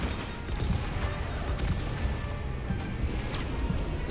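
Gunfire in a Spider-Man video game crackles as a steady, moderately quiet burst of shots and impacts over a dense game soundscape, with no talking.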